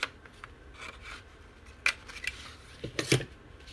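Scissors cutting paper for a winter folio journal: a few quiet, scattered snips and rasping strokes, with two sharper cuts standing out near the end, close by and with no talk.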